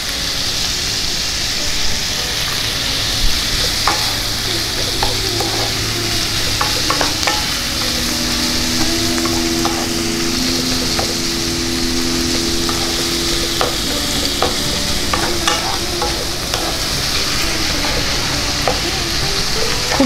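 Chicken keema frying with onions in a pan sizzles steadily and loudly, with a spoon scraping and stirring through the mince in occasional clicks and scrapes.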